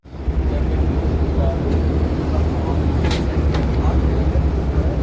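The Shalimar Express 28 Down pulls into Sahiwal railway station with a continuous heavy rumble of rolling train wagons, loud and near, a few brief higher clanks over the steady roar.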